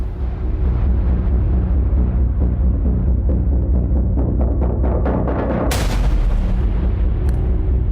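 Russian Iskander missile strikes in war footage: a sustained low rumble of heavy blasts with repeated sharp bursts, and one strong boom breaking through near the end.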